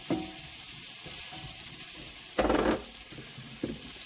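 Chopped onions sizzle and hiss steadily in a hot pan, with a louder burst of frying and scraping around the middle as they are stirred, then brief clanks of the utensil near the end.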